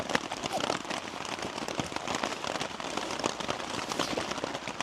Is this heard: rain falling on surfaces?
yes